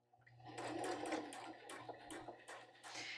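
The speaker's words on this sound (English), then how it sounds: "sew right on the fold" Home sewing machine stitching along a fabric fold for a stand-up fell seam, a steady close mechanical whir with a low motor hum running under rapid needle chatter for a few seconds.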